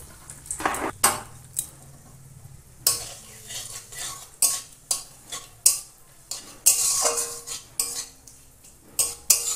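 Cumin, radhuni, bay leaf and a dry red chilli temper in hot oil for a pumpkin fish curry, heard as bursts of crackling spatter mixed with loud metallic clanks and scrapes of a utensil against the pan.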